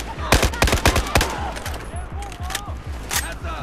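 Rapid automatic gunfire in Battlefield 4 on the Kunlun Mountains mission crackles in loud close bursts, followed by scattered single shots and electronic effects.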